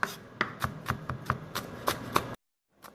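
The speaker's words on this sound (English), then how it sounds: "Chopping the onion in very tiny little pieces." Knife chopping an onion into tiny pieces on a cutting board, a quick series of sharp, close taps, then a short pause and one more faint chop.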